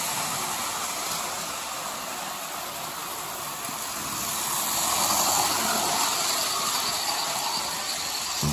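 An old Lionel model train, an F3 locomotive pulling 2500 series Super Chief cars from a 1950 set, runs along its track with a steady whirring hum that swells a little midway and then eases.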